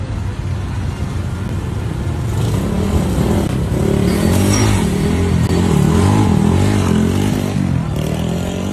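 A motorcycle fitted with a loud aftermarket Bronx exhaust revs hard and pulls away on a street, a dense rasping roar rising and falling in pitch, close and loud throughout with some clatter.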